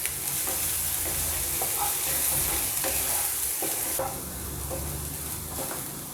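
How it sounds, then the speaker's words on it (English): A pan sizzles steadily as ingredients are sautéed for Schezwan fingers, with stirring scrapes and clicks close by and no voices. "And saute for some time until the raw smell goes."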